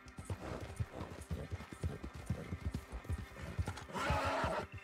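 A horse in the video game Red Dead Online, with steady clip-clopping hooves and a loud neigh near the end.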